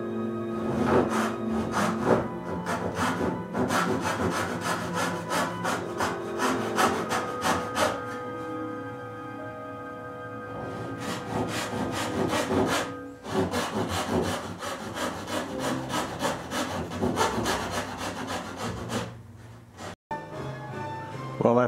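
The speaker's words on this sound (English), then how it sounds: "after sawing out most of the waste with the coping saw" Steady back-and-forth rasping of a coping saw cutting through wood for hand-cut dovetails, loud and close, with brief pauses between strokes.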